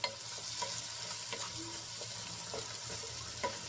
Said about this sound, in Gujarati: એ એડ કરી દઈશું અને ડુંગળીમાં સરસ રીતે મિક્સ કરી લઈશું